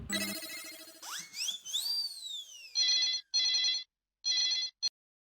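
A telephone rings while a call is placed to book tickets: sweeping electronic tones rise first, then three evenly spaced bursts of trilling ring, clear and close, with a brief click at the end.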